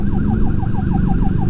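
Wailing police-style siren amid São Paulo traffic, a rapid repeating yelp sweeping up and down in steady pulses, loud and close over a dense rumble of engines.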